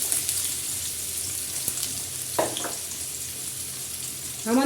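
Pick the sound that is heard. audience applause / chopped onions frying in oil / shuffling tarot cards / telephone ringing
chopped onions frying in oil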